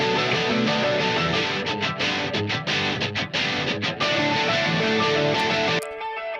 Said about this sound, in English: absolute onslaught of guitar